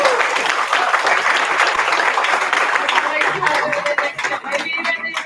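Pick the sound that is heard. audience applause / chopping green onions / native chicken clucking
audience applause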